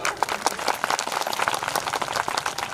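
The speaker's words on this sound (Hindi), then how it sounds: "इनके लिए बड़ी जोरदार ताली।" An audience at a Bhagwat Katha religious discourse gathering claps loudly and steadily, a dense rhythmic patter of many hands with sharp individual claps standing out throughout.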